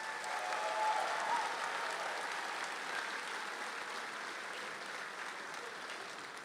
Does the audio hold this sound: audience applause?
yes